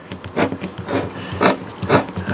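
Wall Driller Plus anchor being hand-driven into a wall with a driver, giving a close, scratchy grinding rasp in several short bursts.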